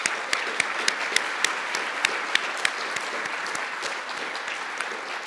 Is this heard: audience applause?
yes